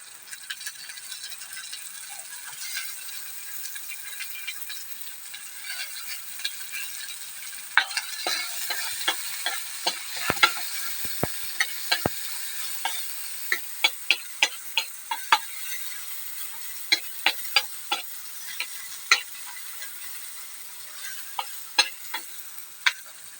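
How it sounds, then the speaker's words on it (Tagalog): Sliced onions hit golden-browned garlic in a hot pan and sizzle steadily while a spatula scrapes and clicks in uneven bursts, growing busier and louder toward the end; no one speaks. "Yan, medyo na golden brown na rin yung bawang. Ilalagay na natin yung sibuyas."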